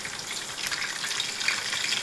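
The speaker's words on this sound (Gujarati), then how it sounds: "લસણની કળી નાખી દઈશું આમાં." Garlic cloves fry in hot oil for a paneer dish, a loud, dense, steady sizzle with fine crackling that fills the whole moment up close, with no voices.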